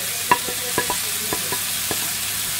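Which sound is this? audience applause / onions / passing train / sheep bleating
onions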